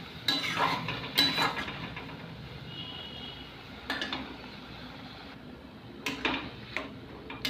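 Grated carrots being stirred into milk in a pan over low heat for carrot halwa, giving soft wet scrapes with a few sharper knocks of the spoon against the pan at irregular intervals.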